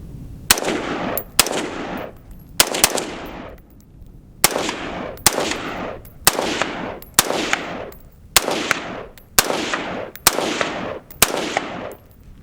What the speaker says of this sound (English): We're just going to put a couple rounds on target